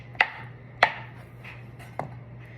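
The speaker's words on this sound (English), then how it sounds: "I am going to cut it into small little pieces and place it around the top of the pie" Kerrygold butter being sliced into small pieces with a knife, three sharp chops against a board with pauses between, close and alone.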